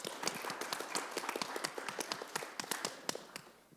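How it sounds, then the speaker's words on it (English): Audience at a social justice forum applauding a speaker, with dense, steady clapping from many hands throughout, fairly close and loud. "Give him another round of applause."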